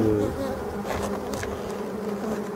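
Black honeybees buzz around a hive in a forest in Brittany, France, a steady close hum of many insects with individual bees droning past now and then.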